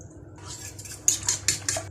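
Quick metallic clinks of a fork beating an egg with black pepper in a dish, four or five taps in a fast rhythm, close and fairly quiet.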